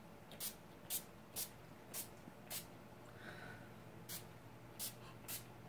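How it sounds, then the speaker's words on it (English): Short bursts of aerosol spray hiss in quick succession, about nine puffs spaced irregularly, close and fairly quiet against a low background hum. "You can use whatever setting spray sets you know"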